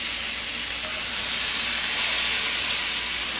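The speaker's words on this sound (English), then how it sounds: "And then nice sear on the pork." Pork sears in a pan indoors, a loud continuous hissing sizzle that holds steady throughout, close and uninterrupted with no voices.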